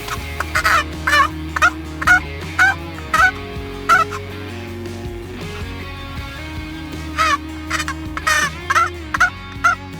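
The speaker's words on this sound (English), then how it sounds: "he takes the time to teach Gabe how to do a little bit of turkey calling" A hunter works a turkey call, sending out short bursts of three or four squawking yelps with pauses between, close and clear over a steady low background hum.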